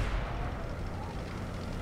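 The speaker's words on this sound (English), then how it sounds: "since artillery was firing on me" Artillery fire in World of Tanks on PS4, a steady rumbling roar of distant guns and impacts filling the whole moment, fairly loud and continuous with no distinct single shots.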